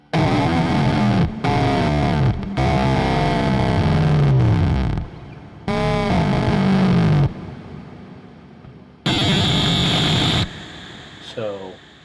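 A harsh, buzzing tone from a 2mult Audio Panic Room synthesizer module comes in several loud bursts with short gaps, gritty and distorted, one burst sweeping in pitch.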